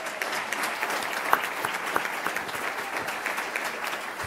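Audience at a Palm Beach County school district meeting giving a sustained round of applause, many hands clapping at once with a few crisp claps popping out, moderately loud and steady.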